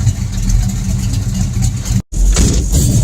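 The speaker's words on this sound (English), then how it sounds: "9 a.m. seems like a good time for full throttle test hits, right?" Loud, close engine roar from a 1971 Dodge Demon 340 at full throttle, a dense sustained rumble that cuts out abruptly for a split second, then returns.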